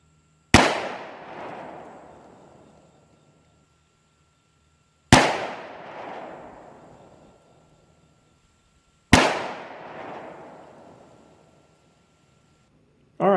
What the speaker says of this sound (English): All right, let's get to the shooting.